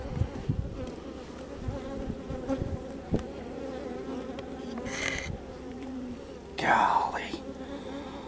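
Honey bees buzzing around an open hive, a continuous close droning hum with individual bees zipping past the microphone, a few clicks and knocks of hive handling, and a brief spoken exclamation.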